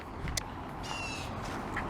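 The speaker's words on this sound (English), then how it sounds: "hear birds." Crows caw in short bursts in a wooded nature sanctuary, a couple of calls rising out of steady outdoor ambience, fairly distant and moderately faint.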